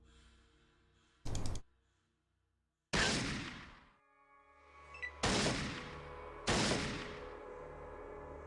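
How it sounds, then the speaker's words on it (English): Gunshots in the classic Fallout game come as four separate sharp bursts with gaps of quiet between them, each a loud crack with a short decaying tail over a low background hum. "See if I can shoot this guy from here"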